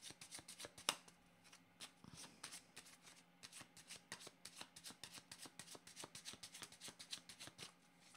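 Playing cards being shuffled by hand in a tarot-style card reading, a long run of quick, close, crisp riffling snaps in steady rhythm with a few sharper slaps, heard on their own without talk.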